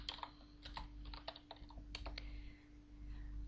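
Commands typed on a computer keyboard while playing Aardwolf MUD, a quick irregular run of close, crisp key clicks over a low steady hum, with no talking.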